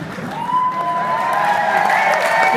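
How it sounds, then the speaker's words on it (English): A gathering claps in thanks for Mattersey, a steady, loud wash of hand claps with whistling and cheering voices rising through it from start to finish. "I want to give us a Mattersey thank you clap."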